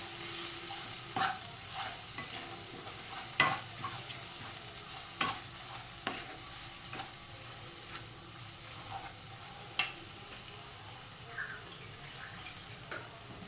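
Chicken kofta masala is stir-fried with salt, a soft steady sizzle broken by scattered sharp spoon scrapes and clinks against the pan.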